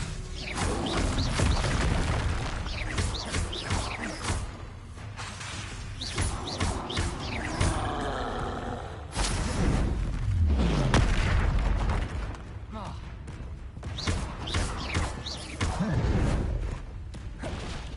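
Confringo blasting curses explode in Hogwarts Legacy amid busy spell combat, repeated booms and bursts with whooshes layered over constant noisy action, loud and dense throughout.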